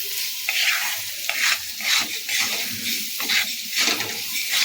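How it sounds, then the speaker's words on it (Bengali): Potatoes and mixed vegetables with salt are stirred in a frying pan, a spatula scraping and turning them in a steady rhythm of close, rustling strokes over a soft, continuous sizzle. "আলু সবজি সব সমেত নমে একটু নেড়ে চেড়ে নেব"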